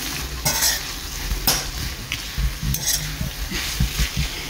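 Onions stirred in a pan make a sizzling fry, with bursts of spatula scraping and tossing recurring roughly every second.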